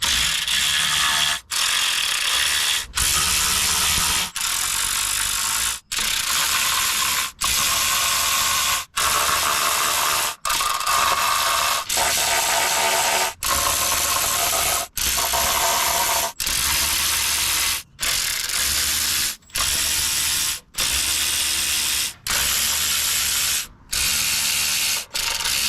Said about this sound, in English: we can get to our oil pan bolts and start popping that off